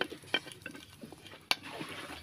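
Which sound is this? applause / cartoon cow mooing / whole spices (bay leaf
whole spices (bay leaf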